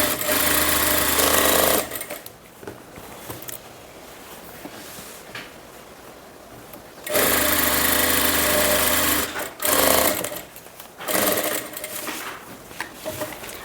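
A sewing machine runs straight stitches along the shoulder seam of an A-line kurti, whirring loudly in two long bursts and a few shorter runs, with quieter handling pauses between and no talk.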